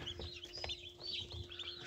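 Young chicks on the floor near an incubator peep and cheep in soft, scattered bursts, faint and close.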